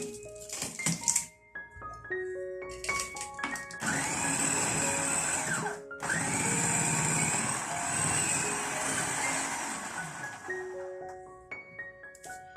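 A Kenwood FDP301 Multi-Pro Compact food processor whirs loudly and steadily as it chops cabbage, with short clatters at the start and a brief dip in the motor midway before it runs on and stops near the end.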